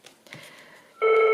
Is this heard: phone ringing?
yes